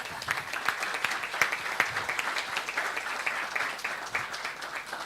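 Audience at a political forum in Resistencia, Chaco applauding a former national deputy, a steady wash of many hands clapping at moderate distance, sustained and even, with no speech over it.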